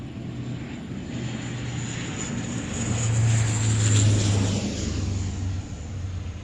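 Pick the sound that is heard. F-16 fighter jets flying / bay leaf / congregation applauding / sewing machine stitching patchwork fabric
F-16 fighter jets flying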